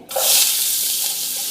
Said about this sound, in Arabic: راح أطبخ المخلمة وياكم بإضافة قليل من الزيت، ما أريد أكثر. وراح أذبل البصل هنايا